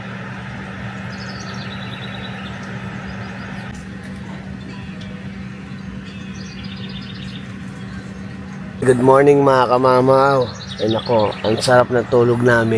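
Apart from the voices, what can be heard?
birds singing in the morning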